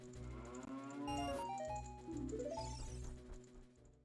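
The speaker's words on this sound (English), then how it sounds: "I can also go check to see what's on Impa's cow" Cow mooing in a Zelda Ocarina of Time randomizer game, two long drawn-out moos with sliding pitch, the first swelling and the second rising then falling, over faint game music.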